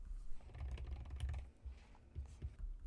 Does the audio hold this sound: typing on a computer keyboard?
yes